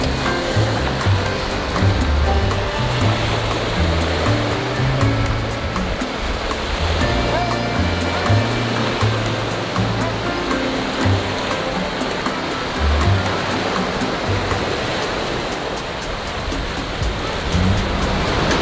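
Ocean surf rolls in on a Key West beach, a constant wash of breaking waves with a low rumbling undertone that fills the whole stretch.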